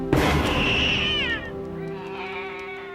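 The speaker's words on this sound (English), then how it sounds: "A black cat is quite literally hurled right at her." Black cat yowls in a spooky TV scene, a loud, drawn-out caterwaul that bends downward, followed by a softer second meow over a low sustained musical tone.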